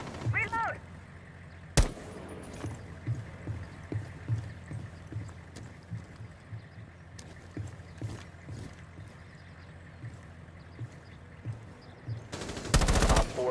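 Gunfire in Rainbow Six Siege comes in rapid bursts of close shots among scattered impacts and game sounds, with a voice speaking briefly and a loud crackling burst near the end.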